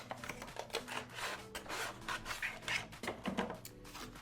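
Packaging around a pair of Famore fabric scissors crinkles and rubs close by in a quiet room, with irregular rustles, scrapes and small taps as it is pulled open.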